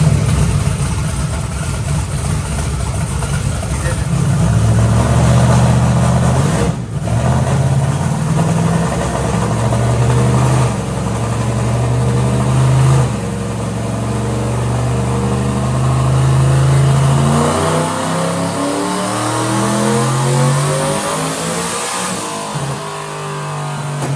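A twin-turbo NASCAR truck engine roars loudly on a dyno, holding steady low harmonics and then climbing in pitch as it revs under boost, with no talk over it.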